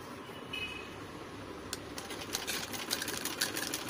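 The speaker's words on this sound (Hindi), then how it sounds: "अब हमें पूरी स्टिचिंग करनी है इसको, और बारीक सिलाई के साथ स्टिचिंग करेंगे" A sewing machine stitches fine seams on a saree being made into an umbrella dress, running steadily with quick rattling bursts that grow busier toward the end, alone and fairly close.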